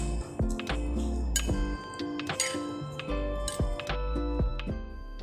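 A whisk clinks rapidly against a bowl while beating three egg yolks until smooth, a quick irregular run of sharp metallic taps close up, steady throughout.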